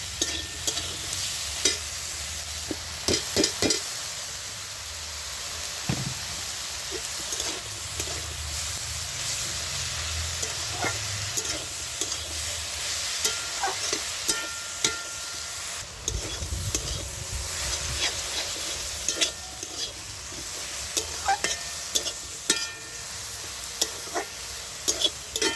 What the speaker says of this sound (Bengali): এইবার আমি দিয়ে রাখা আমরুল শাকটা দিয়ে